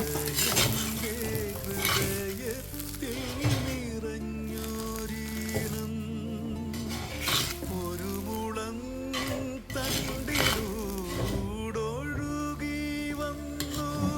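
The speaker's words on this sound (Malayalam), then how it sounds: "ചിക്കനും സബോളയും കൂടി ചേർക്കാം കുറച്ചുപ്പിട്ട് കിളക്കിയെടുക്കാമേ" Chicken and onions with salt stirred and tossed in a hot pan, a spoon scraping and clanking against the metal over a steady sizzle, busy and close throughout.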